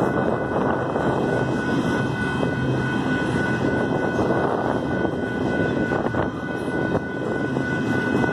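A long Union Pacific freight train rumbles past through rural Saint Elmo, Illinois, with a steady broadband roar and a sustained high tonal squeal, continuous and loud for the whole stretch.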